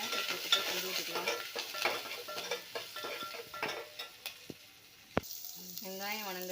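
Onion and curry leaves frying in a pan, with steady sizzling broken by scraping stirs and the clink of a utensil against the pan, close and moderately loud.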